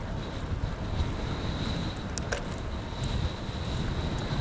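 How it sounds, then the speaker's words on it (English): Steady broadband wind buffeting on the microphone from a headwind while bicycle touring on a road near Port Perry, Ontario, a continuous low rumble with no talk. "Ooh, we got a headwind, all right."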